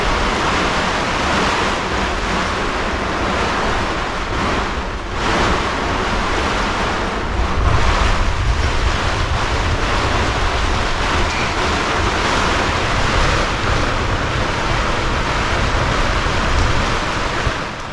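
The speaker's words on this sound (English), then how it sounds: "It's getting windy! I can just see the wind waves on the water." Strong wind blows steadily across open water aboard a sailboat, buffeting the microphone with a loud, rumbling roar that swells and eases, while broadband surf and wave wash runs underneath throughout.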